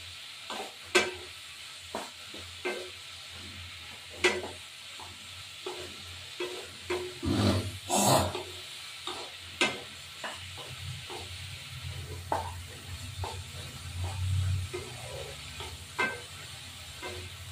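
Rohu fish frying in oil alongside eggplant produces a low background sizzle, broken by regular spatula clicks and scrapes and a louder burst of spitting midway, heard up close with no speech.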